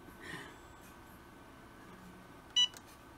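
A Cricut EasyPress 2 heat press timer, used to apply glitter HTV to a bag, gives one short, clear electronic beep near the end, standing out over a quiet room hum.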